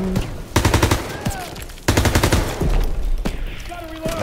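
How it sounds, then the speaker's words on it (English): Bursts of automatic gunfire and explosions from the Call of Duty WW2 video game, rapid rattling volleys in two loud stretches with booming impacts and brief pauses between. "Aku nembak Pearson"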